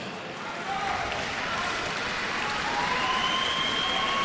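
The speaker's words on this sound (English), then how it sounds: "Big round of applause for both fighters." Steady crowd applause at an MMA championship event, dense and continuous rising after a brief quieter opening, with a loud announcer voice layered over it.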